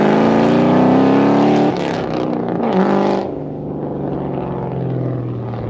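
A loud, deep Foxbody Ford Mustang exhaust roars steadily, then drops to a rough, rumbling idle, close and dominant with no talking.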